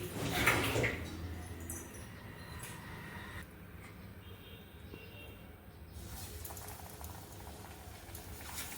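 Cucumber slices frying in hot oil, a faint, soft bubbling crackle that holds steady, with a brief louder clatter near the start as pieces go in.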